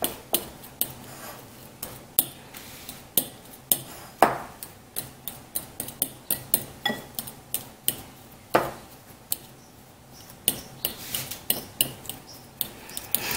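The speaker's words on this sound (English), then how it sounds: "I'm just gonna crush these yolks first." A metal fork clinks and scrapes against a bowl while crushing hard-boiled egg yolks for deviled eggs, a steady run of sharp, close taps and clicks with brief pauses, no talking.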